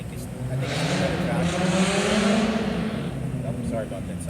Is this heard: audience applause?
no